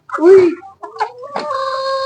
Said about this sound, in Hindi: ये देखें जी, मुर्गियां बाहर आना स्टार्ट हो गई हैं, देख सकते हैं आप।